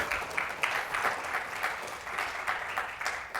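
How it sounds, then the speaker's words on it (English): An audience claps at a data analytics conference talk, a steady mid-level patter of many hands across the whole stretch with no voices over it. "Clap for him for showing up."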